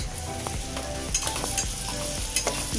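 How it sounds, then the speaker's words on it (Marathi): Garlic and curry leaves fry in hot oil for a kairi dal tempering, making a loud, dense, continuous sizzle with crackling pops and a few stirring scrapes close by. "तेलामध्ये चांगलं लाल करूया, व्यवस्थित परतून घेऊया."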